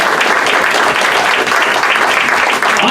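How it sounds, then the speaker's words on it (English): Full, continuous applause from a room of people at a Greater Cincinnati Democrats meeting, a dense wash of clapping that stays loud and even throughout, with no voices over it. "So please give these folks a round of applause."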